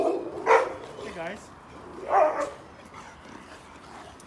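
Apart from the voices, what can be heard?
dogs barking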